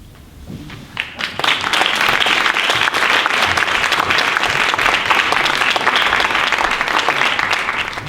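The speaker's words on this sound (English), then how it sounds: "Let's have another round of applause" An audience at a regional poetry recitation competition bursts into applause after a student's recital, swelling quickly after a quiet start into loud, sustained clapping that holds steady throughout.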